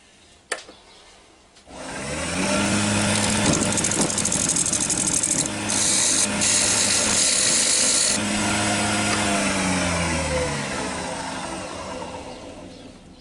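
A wood lathe hollows out a small wooden witch's cauldron pot, starting after a brief click and then running as a loud, steady whirring grind with the cutting tone shifting and fading slightly toward the end.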